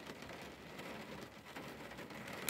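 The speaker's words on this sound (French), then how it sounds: "J'espère que ça vous gêne pas trop le bruit de la pluie." Steady rain falls on a car, a faint, even hiss of drops drumming on the body and roof that continues without a break.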